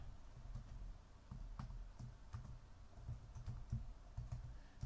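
Soft, quiet clicking of keys on a computer keyboard as a date is typed in, light irregular taps running steadily throughout.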